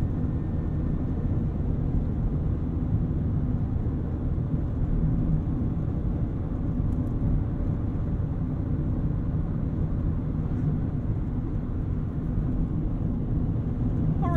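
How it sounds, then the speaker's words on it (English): Inside a 2023 Mazda MX-5 Miata with a manual gearbox cruising at 60 mph, a constant low tire roar blends with steady wind rush. The cabin drone stays even throughout, and nobody speaks. "There's some tire noise, there's some wind noise, but I could tolerate this"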